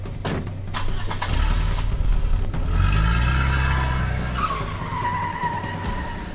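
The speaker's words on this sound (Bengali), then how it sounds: "মোটরে উঠে বসে প্রচণ্ড বেগে মোটর চালিয়ে দেয় সে।" A car starts up and speeds away with squealing tyres, the engine roaring loudly and then pulling off, a staged chase effect for a Bengali detective audio drama.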